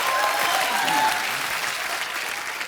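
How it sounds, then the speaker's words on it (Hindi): Studio audience applause on a Hindi comedy talk show, a dense, even burst of clapping that fills the whole stretch and fades slightly at the end. "सुगंधा के लिए जोरदार तालियां आ जाए यार।"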